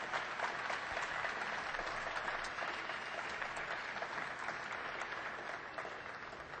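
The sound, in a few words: audience applause for the spacecraft teams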